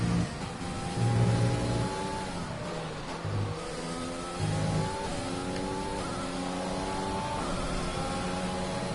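F1 race car engine in F1 2020 at the Austria circuit, revving through repeated rising upshifts with whining gear changes, steady and moderately loud with no talk.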